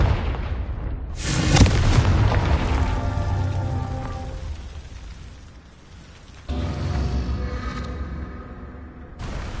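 A Confringo fire-blast spell from Hogwarts Legacy bursts with a deep booming crack, followed by a crackling, rumbling decay and a second blast a few seconds later.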